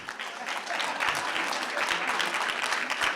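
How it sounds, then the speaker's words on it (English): Applause for the young people at a Black History Month gathering, many hands clapping in a dense, even wash that fills the room for a few seconds. "Let's give our youth a round of applause in the room"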